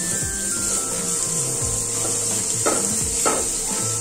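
Garlic paste drops into a hot pan of oil for a Bengali red lentil egg tadka, giving a steady close sizzle with a few stirring scrapes, no voices.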